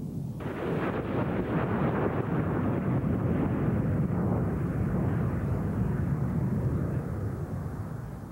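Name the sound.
F-16 fighter jets landing at an air show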